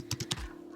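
Several quick keystrokes on a computer keyboard, close and clear, typed in a short burst of about three taps with no one talking.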